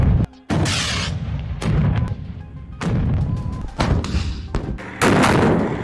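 Houthi ballistic missile strike on Tel Aviv: a series of loud, heavy explosive booms, four or five broad blasts spaced unevenly across the span, each with a thudding low end and rumbling tail.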